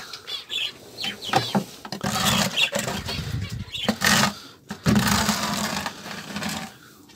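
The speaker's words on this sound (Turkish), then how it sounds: "Şimdi bunun kabasını öncelikle kürekle toplayacağım." A shovel scrapes and scoops debris off the floor of a budgie breeding room, giving repeated rough scraping strokes at close range with a few pauses between them.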